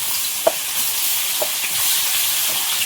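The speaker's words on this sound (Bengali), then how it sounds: "তেল দিয়েছি এবার মাছগুলো সব ভাজবো" Pond fish frying in hot oil in a home kitchen, a dense, even sizzle throughout with a few soft knocks and stirring scrapes, close and loud with no talking.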